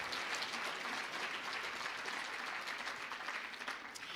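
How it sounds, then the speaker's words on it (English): An awards-ceremony audience applauds a scholarship announcement with steady, even clapping from many hands in a large room, heard at a moderate distance and without speech. "So yeah, nice round of applause for that."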